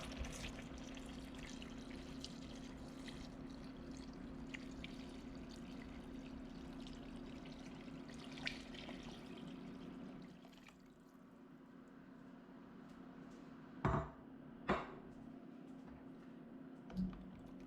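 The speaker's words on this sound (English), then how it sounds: "Now here's our water coming in." A steady, continuous rush of about a gallon of water pouring into a stew pot, close and moderately loud, followed near the end by a few sharp knocks.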